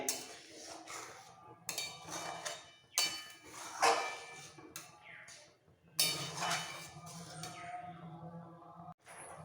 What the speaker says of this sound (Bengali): কন্টিনিউ একটু নাড়াতে হবে এইভাবে একটু নাড়াচাড়া দিয়ে দুধের সাথে গাজরটা সেদ্ধ হতে দিতে হবে